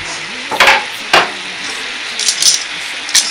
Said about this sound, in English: Put the rest of the sauce in and you're just simmering it down to infuse all those flavors